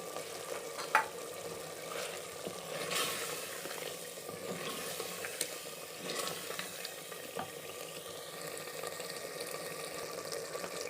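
Steady sizzling of ginger garlic paste frying in oil in a pan, with soft stirring scrapes and a light clatter, continuing throughout without talk.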